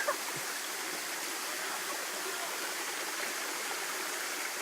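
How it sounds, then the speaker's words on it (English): A waterfall rushes in a steady, broad hiss of falling water, constant and fairly soft throughout with no talking. "Josh McCubbin on the top of the waterfall"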